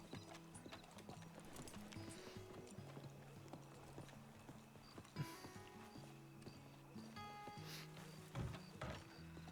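Horse hooves clip-clop steadily in Red Dead Redemption 2 roleplay on the WildRP server, a close rhythmic trot with a snort or whinny and some creaking tack, fairly quiet overall.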